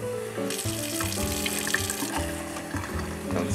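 Steady running water pours and splashes continuously while rinsing a dog during a bath, close by with a constant rushing hiss throughout.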